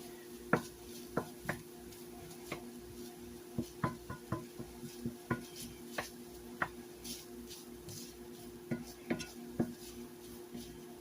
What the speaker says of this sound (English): Now, I'll mix this all around.